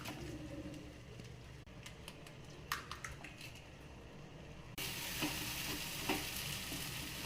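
Mutton brain and beaten egg stir-frying in a pan, a steady close sizzle with scraping spatula strokes and light clicks, growing louder and brighter partway through as the mixture is stirred; no voices.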